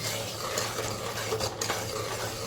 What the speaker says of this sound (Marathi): दह्यालाही व्यवस्थित फेटून घ्यायचं